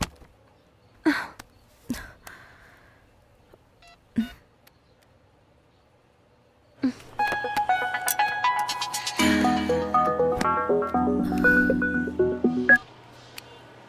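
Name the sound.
telephone dialing a call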